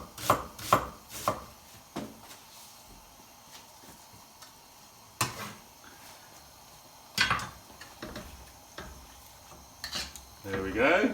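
Knife chopping onion on a board for Thai green curry, bursts of quick cuts separated by pauses, close and fairly loud, with a light clink of utensils.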